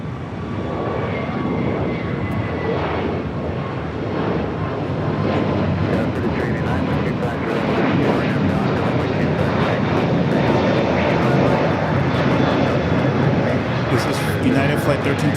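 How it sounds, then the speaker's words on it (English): Delta jet airliner arriving from Cabo at Los Angeles LAX, a loud, sustained engine roar that swells slightly, with a person talking over it. "Delta flight coming in from Cabo"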